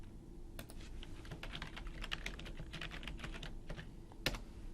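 Steady typing on a computer keyboard while placing text in a panel design program, with quick clustered key clicks close to the mic over a low background hum, no voices.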